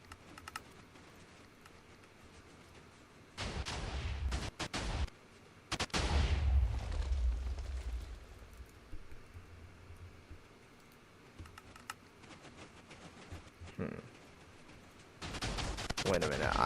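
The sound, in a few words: cannon explosions in a video game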